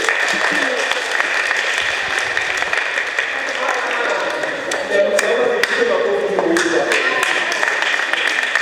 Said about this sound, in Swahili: tupige makofi huyo